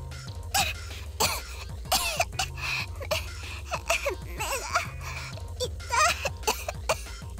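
Several girls cough and choke on smoke in a visual novel game scene, with repeated harsh coughs and throat-clearing bursts over a steady musical backdrop.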